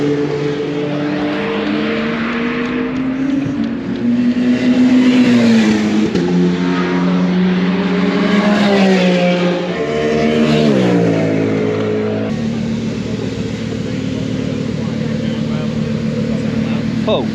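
BMW revving hard and spinning its wheels at a Goodwood track event, a loud, rising and falling engine note that climbs through several surges, with people talking over it throughout.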